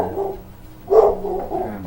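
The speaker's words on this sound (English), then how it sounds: "my dog's freaking out" A boxer dog barks once, a short muffled burst partway through, over a steady background hum from a game playing in the room; no one speaks.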